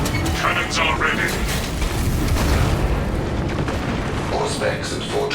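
Dense, continuous rumbling battle noise from cannon fire in the video game Space Marine 2, with booming blasts and scattered higher crackles, loud throughout, with voices faintly mixed in.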